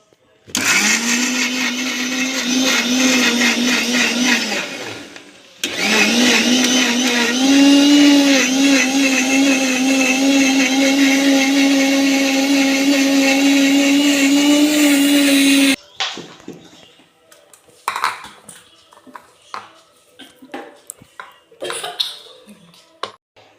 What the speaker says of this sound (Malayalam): അലോവേര ജെല്ല് നന്നായി മിക്സിയിലിട്ട് അരച്ചെടുത്തിട്ടുണ്ട്